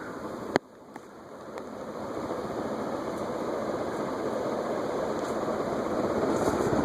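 A Sonnet-Air Spinner ceiling fan with a leaded glass light runs on high speed. A sharp click is followed by a steady, close, whooshing rush of air and motor hum that slowly grows fuller and louder.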